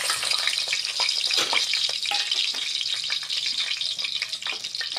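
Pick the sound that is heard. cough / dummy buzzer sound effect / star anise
star anise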